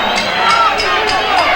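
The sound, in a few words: boxing crowd cheering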